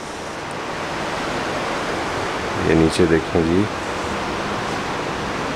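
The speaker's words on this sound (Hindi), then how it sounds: "बहुत तेज़ी से बहता हुआ पानी" The fast-flowing Kunhar river near Naran rushes in a steady, loud broadband roar heard from beside a hotel room window, with someone speaking briefly over it midway.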